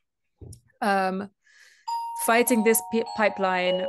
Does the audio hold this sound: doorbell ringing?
yes